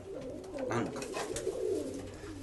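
Pigeon with a long, drawn-out body and long wings, cooing in a low, steady, rolling murmur that rises and falls across the whole stretch, close by, with faint background noise.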